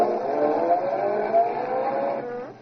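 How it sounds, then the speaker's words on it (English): A radio-drama car effect plays: an engine hums and rolls along for a couple of seconds as the car pulls into a garage, then it slows and fades out. "I'll just put the car in the garage."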